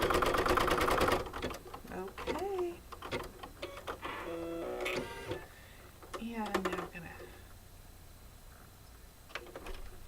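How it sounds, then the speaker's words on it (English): An embroidery machine stitches the wing placement for a chicken coaster, with a rapid mechanical clatter at the start and intermittent stitching bursts under a person talking throughout. "The next bit that's going to stitch is it's going to stitch the placement for the wing."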